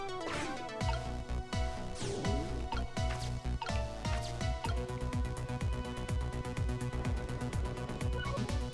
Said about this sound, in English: Water just pours out of them when I move.